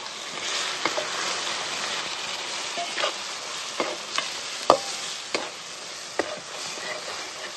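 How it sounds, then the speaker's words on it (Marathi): Masala spices fry in hot oil with a steady, bright sizzle, broken by occasional scraping taps as a spoon stirs the pan. "चांगला मसाला तळून घेतला"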